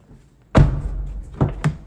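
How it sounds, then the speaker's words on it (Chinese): The door on the far side of a van with added sound insulation shuts with one dull, close thud, followed by two quicker, lighter knocks. "听听这头关门的声音。"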